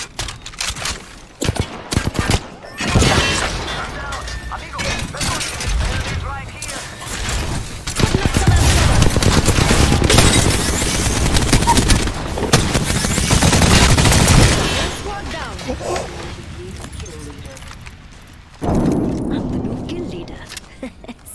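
A squad comes under attack in Apex Legends, with bursts of rapid gunfire, clattering shots and heavy action noise, loud and close, while people talk over parts of the fight.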